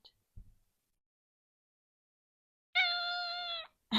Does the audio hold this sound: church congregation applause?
no